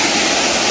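San Jose Falls in Tandag City, a waterfall roaring as a loud, dense, unbroken rush of water heard up close, filling the whole short moment with no voices.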